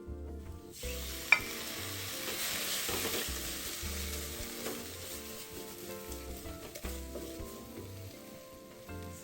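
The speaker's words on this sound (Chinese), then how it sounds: "接着再加入之前炒好的菜脯，翻炒均匀，让味道融合" Preserved radish stir-fried in a wok with chili paste, sugar and fish sauce gives a steady close sizzle, with regular scraping strokes of the spatula against the wok throughout and no talking.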